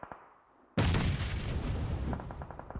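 Explosions and gunfire from the PUBG Mobile video game: after a near-silent start, a sudden loud blast erupts and rumbles on, followed by a quick burst of sharp shots near the end.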